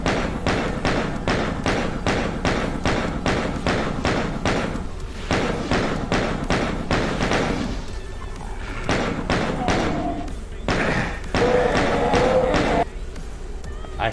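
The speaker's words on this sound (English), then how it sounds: "I shot him from over there." Gunshots in the Doom video game, a fast rhythmic string of heavy booming shots with brief pauses between bursts, loud and close, with game roars and thuds mixed in.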